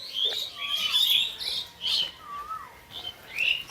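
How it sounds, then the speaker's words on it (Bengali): Several birds chirping and tweeting in short bursts, with a clear whistled call repeating twice, moderately near in a quiet outdoor setting. "খুব সুন্দর পাখির কুজন শোনা যাবে"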